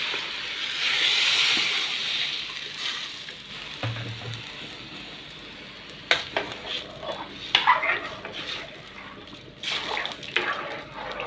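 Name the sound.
stirring rice frying in a pot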